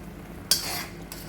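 A spoon scrapes through flattened rice in a pan, one long stir followed by a shorter scrape, over a faint low hum.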